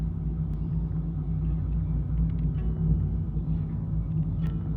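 Jeep Wrangler JKU on a test drive: a steady low engine and road rumble heard from inside the cabin, continuous and even with no talking.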